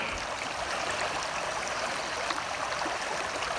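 A mountain stream in the Utah wilderness flows with a steady, close rushing wash of water that holds an even level throughout, with no voices over it.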